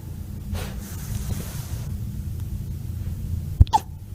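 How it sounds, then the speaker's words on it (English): A wolf pup hiccups, giving two short, sharp jerks in quick succession near the end, over a steady low background rumble. "A wolf pup has the hiccups."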